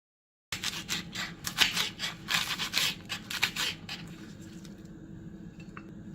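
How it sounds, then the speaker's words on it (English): A knife chops spring onion white parts into big chunks on a board, a quick run of close crisp cuts for about three seconds, then quiet. "Chop the spring onion white parts into big chunks"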